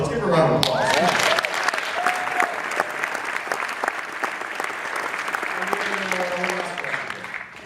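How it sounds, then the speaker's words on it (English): An audience claps in sustained applause at a film Q&A event, dense and steady throughout before thinning slightly at the end, with a voice briefly heard near the start. "Let's give her a round of applause."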